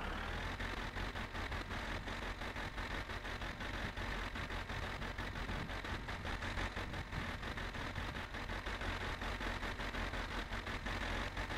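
Tractor engine in the video game My Summer Car runs at a steady idle, a dense continuous low rumble with a rapid regular pulse throughout, loud and close with no talk over it.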